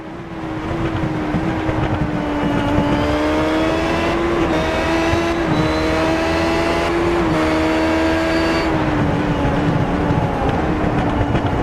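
Onboard engine of a classic Indycar lapping Watkins Glen in a sim racing game, a loud, continuous high-pitched drone that rises and dips slightly through gear and throttle changes, steady and alone without voices.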